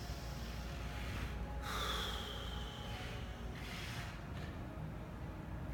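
A person doing a breathing drill draws a sharp, audible breath, heard as a brief gasp or snort. Quieter breathing follows in a calm, otherwise still room.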